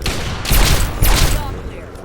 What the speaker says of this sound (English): Who was that shooting at me?